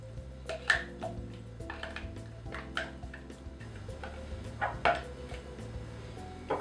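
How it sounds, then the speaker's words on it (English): Spoon scooping white bean truffle dip into a bowl, soft irregular taps and clinks of utensil on dish over quiet background music. "Let's just spoon it into the bowl."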